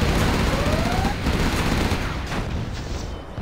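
Gatling gun fire in the video game Command & Conquer Generals Zero Hour, a loud dense roar of rapid shots that fades toward the end, with an in-game voice line spoken over it.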